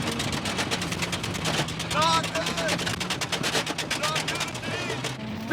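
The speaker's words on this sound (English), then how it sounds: "The noise you hear is the body falling off the Vibe, and the chains are rubbing on the fender flares" Tire chains rattle and rub against the fender flares of a camo-painted Pontiac Vibe with horns on the hood as its body falls apart on a dirt course, a dense continuous metallic clatter with voices over it.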